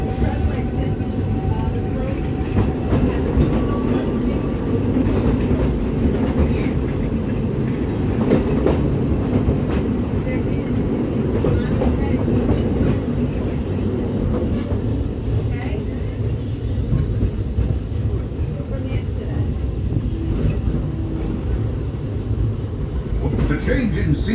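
The Big Thunder Mountain Railroad ride train at Walt Disney World rumbles and rattles steadily along its track, a loud, continuous clattering ride noise with talk audible through it.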